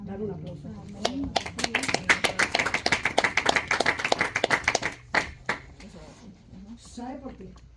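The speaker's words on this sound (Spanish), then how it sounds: "Dale un aplauso." At a church Bible study, a congregation breaks into a short round of clapping, with sharp, distinct claps from a modest group that swell and then scatter to a few stragglers, while a voice speaks before and after.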